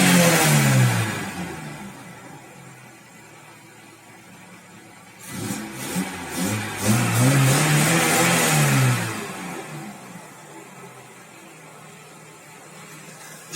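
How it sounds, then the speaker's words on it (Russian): An Audi 100 carburetor engine, noted for a cold-start problem and a knock, revs up from idle, drops back, then climbs and surges again before settling to a lower hum, close and loud with no voices. "Сейчас покажу, как она заводится."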